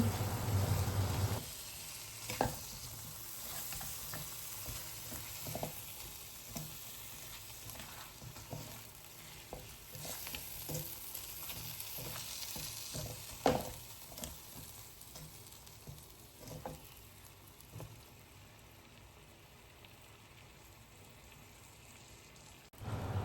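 Duck pieces stir-fried in oil, with a soft steady sizzle under intermittent scraping and clattering of the utensil against the pan, close but quiet.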